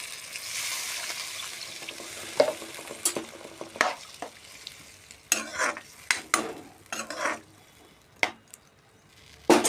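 Ash gourd and lentil fritters are stirred in a sizzling curry pan, with a soft frying hiss under bursts of spatula scraping and clacking against the pan, close and uneven in rhythm, with nobody talking.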